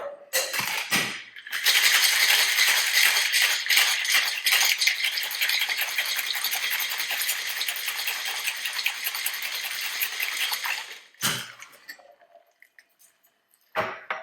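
Vigorous, continuous rattling of ice in a cocktail shaker, mixing a vodka gimlet, for roughly ten seconds, loud and close, then a few quieter clinks.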